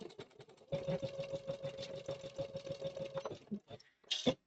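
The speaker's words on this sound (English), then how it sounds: "So I've got my machine set up with my orange thread this time" A sewing machine stitching orange thread in free-standing lace work runs in a steady, fast mechanical whir of needle strokes for about three seconds, then stops, leaving a few faint clicks.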